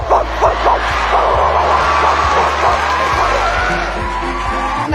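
A girl imitates a dog barking with her voice, giving a quick run of short, close yips and barks at first, then a longer vocal stretch over a constant low hum.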